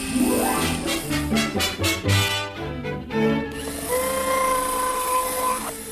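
A whirring electric power drill runs in pulsing bursts in a radio drama, its pitch rising and dropping, then settles into a steady high whine; loud and close.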